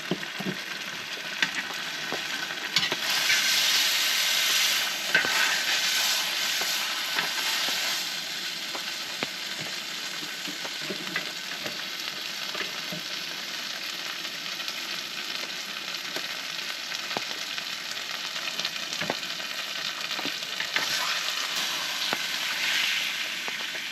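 A steak sizzles and fries at a cold-weather campsite by Big Piney Creek, a continuous close crackling hiss with scattered pops and faint scraping.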